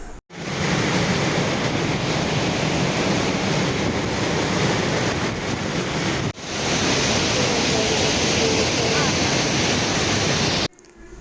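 Hogenakkal waterfalls roar during a coracle ride on the river, a dense, loud, unbroken rush of water that fills the scene, cut off briefly near the middle and again at the end.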